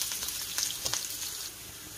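Garlic cloves and green chillies frying with cumin in hot oil, giving a steady, close sizzle with soft crackling pops throughout, alone and without talk.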